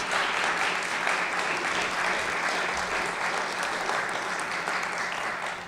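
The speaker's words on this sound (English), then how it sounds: "Applause, come on, yes." Steady applause from an audience at a civic design live event, a continuous wash of many hands clapping at moderate volume without pause.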